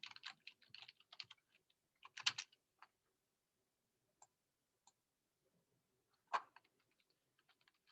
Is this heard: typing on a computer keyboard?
yes